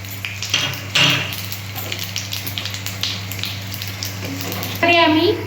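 Whole spices hit hot oil in a wok for vegetarian ghugni, with bay leaf, dried red chilli and cumin seeds sizzling steadily under metal clinks and stirring while a person speaks over it.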